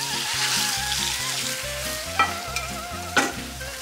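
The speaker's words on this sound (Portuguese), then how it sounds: "Óleo quente, frigideira no fogo alto, ou panela, o que for." Beef sears in hot oil in a frying pan over high heat, sizzling steadily up close with a few sharper pops and crackles as the meat is stirred, while a faint tune plays in the background and no one talks.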